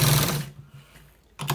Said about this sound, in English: Let's stitch it. We are stitching it to the very end